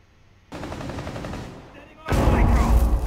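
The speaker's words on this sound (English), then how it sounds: "that's me shooting." Rapid gunfire from Rainbow Six Siege, an online tactical shooter match, breaking out as close, loud bursts that grow heavier toward the end, with no clear talk over it.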